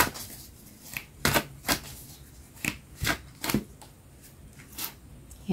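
Tarot cards shuffled and drawn at close range, a series of sharp papery riffles and slaps in irregular bursts with quiet pauses between.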